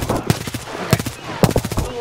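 Video game gunfire comes in quick close bursts, sharp cracking shots grouped in short clusters with a few louder reports standing out over a busy backdrop.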